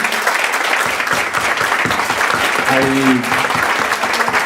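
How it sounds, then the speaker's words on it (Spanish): Loud, close applause from a conference audience in Lima fills the whole stretch, with a voice briefly heard through the clapping midway. "Un fuerte aplauso, por favor, para Luis Chirino."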